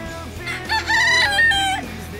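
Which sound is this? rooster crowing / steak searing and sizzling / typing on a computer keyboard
rooster crowing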